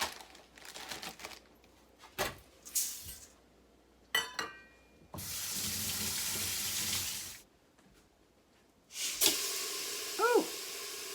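Tap water runs into a sink in bursts while a cup of uncooked lentils is rinsed, with clinks of glass or dishes between the longer hissing streams, close and fairly quiet.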